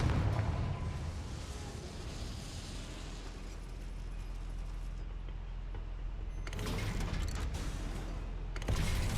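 Confringo blasting spell exploding in Hogwarts Legacy inside a goblin mine, with a deep rumbling blast and mechanical rattling that lingers. Two sharper loud bursts follow later, and no one speaks.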